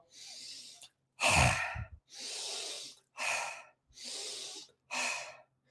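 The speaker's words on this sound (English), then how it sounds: "Open your mouth as wide as possible and force the air out" Lion's breath exercise: a person with tongue extended and mouth wide forces air out in five strong, breathy exhales with quiet gaps, the second the loudest, all close and clear with no talking.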